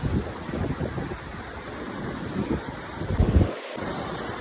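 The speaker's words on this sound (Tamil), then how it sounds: "சென்னைக்குள்ள அலைகள் அதிகமாக அடிக்கிற பீச்சுனா அது கோவளம் பீச்சு தாங்க" Ocean waves crash and wash up on Kovalam beach in Chennai, a steady roaring surf close by, with wind buffeting the microphone throughout.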